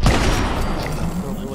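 A quick burst of gunfire in Fallout 76 cracks out loudly at the start and then trails off into a rumbling ambience over about a second and a half.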